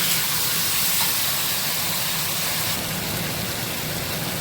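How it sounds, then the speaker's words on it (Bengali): Marinated meat coated in salt, oil and turmeric frying in a kadai, giving a loud, steady broadband hiss and sizzle that holds evenly throughout with no talking. "তো এই যে আমি মাংসটাকে প্রথমে কড়াইতে দিয়ে দিলাম ভাজার জন্য।"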